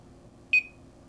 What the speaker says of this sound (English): the watch just beeps